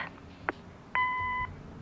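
A short click, then a single steady electronic beep lasting about half a second, quiet and alone, a voicemail tone in the video game Kathy Rain.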